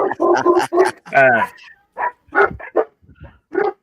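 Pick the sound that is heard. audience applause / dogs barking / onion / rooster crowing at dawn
dogs barking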